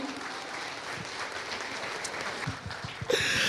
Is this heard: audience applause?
yes